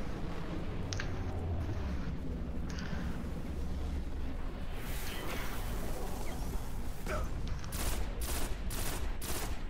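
Gunfire from the video game Destiny played on PS4: dense, continuous bursts of shots roar steadily throughout, with sharper rapid volleys near the end and no talk over them.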